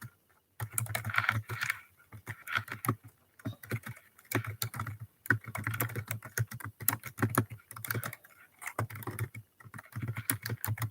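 Rapid typing on a computer keyboard, close and steady in uneven bursts of clicks with brief pauses, no voices over it.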